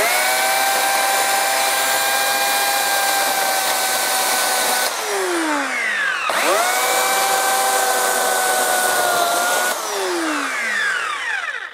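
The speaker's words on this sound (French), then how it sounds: "Là j'ai une tronçonneuse de 1800 watts" A 1800 watt electric chainsaw powered by an Anker SOLIX F1200 portable power station runs loud and steady as a continuous whine, then winds down twice, with pitch dropping at each stop before restarting.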